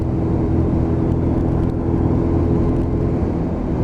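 Lexmoto LXR motorbike cruising in fifth gear and gently picking up speed, a steady low engine drone with wind rumble, loud and constant throughout.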